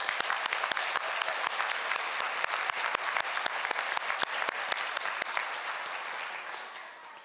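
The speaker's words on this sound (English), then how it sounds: "Class of 2022, please join me in a round of applause for those loved ones who have supported you" A graduation audience applauds parents and families at a high school ceremony, dense sustained clapping from a large crowd that carries evenly and then tapers off toward the end.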